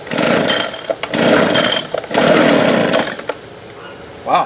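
A leaf blower engine, just after a fuel system rebuild, fires and revs loudly in several surging bursts with brief dips between, then sputters down to a short final pop, close and harsh.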